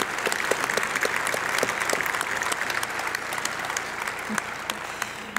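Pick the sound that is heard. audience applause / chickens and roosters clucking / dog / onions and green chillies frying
audience applause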